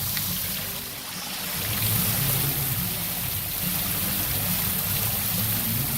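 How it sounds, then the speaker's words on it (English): An outdoor water fountain driven by an electric pump splashes and trickles steadily, with a continuous close wash of falling water and a low mechanical hum underneath, and no one speaking. "There's a fountain right there, a pump."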